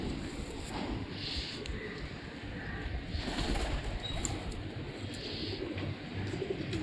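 Pigeons coo in low, continuous murmurs, with occasional brief flutters of wings over a dense, close background.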